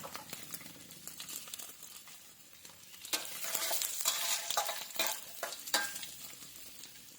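Char siu pork filling being stir-fried in hot oil in a pan, a steady close sizzle with continuous scraping and stirring that swells louder midway, no talk.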